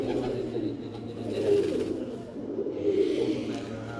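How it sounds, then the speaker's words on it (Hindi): Breeder pigeons at a loft in Kasur coo in soft, low, repeated rolling calls close by, under a faint background murmur. "फसल भाई एक बार ये बैठे कबूतर दिखा दें, लाल परी और टैडी कबूतर"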